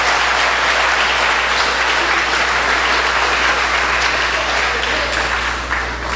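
A church congregation applauds during a Portuguese-language sermon: dense, steady clapping from a large crowd that fills the whole stretch at a constant loud level, easing only slightly near the end.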